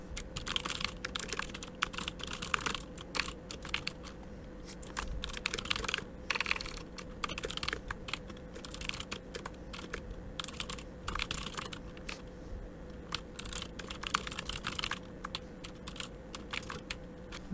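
Code typed on a computer keyboard in rapid, uneven bursts of clicks with brief pauses, close and steady throughout, with no talking.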